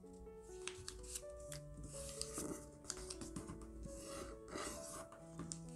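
Colored origami paper being folded into a Santa hat, with soft papery rustles, creases and rubbing scrapes repeating closely through the whole stretch over a faint steady musical tone in the background.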